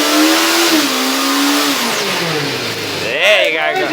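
A motorcycle engine revs hard during a lunchtime burnout, a loud continuous whine rising and falling in pitch, with a sharp upward surge near the end.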